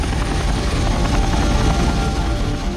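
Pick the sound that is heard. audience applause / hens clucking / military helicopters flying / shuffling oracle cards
military helicopters flying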